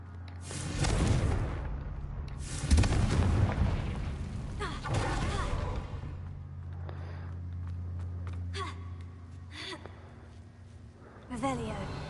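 Confringo blasting spells explode in the video game Hogwarts Legacy, heavy booming blasts with rumbling tails rolling through the first half, followed by quieter crackling bursts, with a voice speaking over the action.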